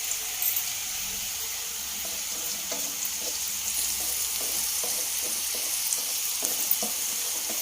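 Mushroom fried rice sizzles steadily in a pan, a loud continuous hiss with scattered scraping stir clicks toward the end, close up and without speech.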